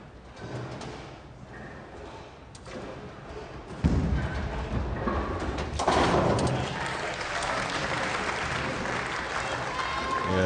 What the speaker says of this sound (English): the applause very subdued indeed